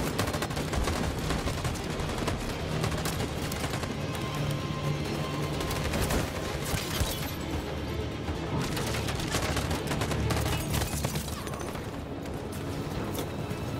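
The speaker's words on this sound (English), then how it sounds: "Covering fire is the only choice." Continuous covering gunfire in a video game battle, dense rapid bursts of automatic fire and shots layered with occasional booms, loud and unbroken throughout.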